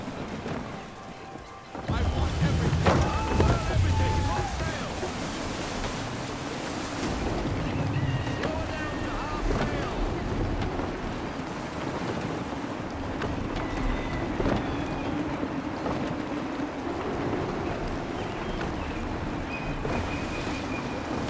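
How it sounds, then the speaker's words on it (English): Gusty wind sweeps over a sailing ship on open water in Assassin's Creed 3, a broad roaring rush with surf washing against the hull, swelling after a brief lull and holding steady, with a voice speaking over it early on. "Gusty winds can be difficult to manage."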